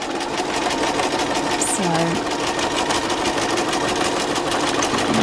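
An industrial sewing machine stitching a French seam, running at a fast steady buzzing rhythm close up throughout, with someone speaking briefly over it.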